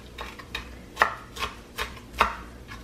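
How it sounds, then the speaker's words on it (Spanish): A knife chopping fresh, washed cilantro on a board for burrito filling, with about seven crisp, separate cuts at an uneven rhythm, close and clear, with no talking. "Ya mero terminamos de picar el cilantro"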